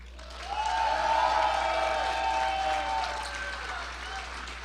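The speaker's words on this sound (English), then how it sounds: "please give these outstanding leaders a well-deserved round of applause, which you've already done" Audience at an inaugural night event applauding donors, a soft, distant wash of clapping that swells and then gradually fades.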